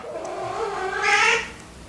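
A pet cat fighting nearby lets out a single drawn-out, rising and falling yowl, moderately loud against a quiet room, with no speech.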